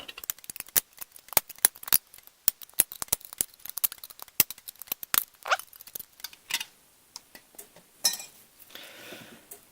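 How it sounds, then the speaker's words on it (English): Pieces are snipped off a small plastic part for a homemade curing jar with hygrometer, a rapid series of sharp close clicks and snaps that thins out into scattered softer clicks and rustling handling. "And cut the connecting pieces off."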